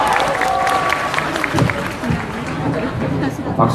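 An outdoor street-gathering audience in front of a Seomyeon building claps and murmurs, scattered applause mixing with crowd chatter and voices speaking.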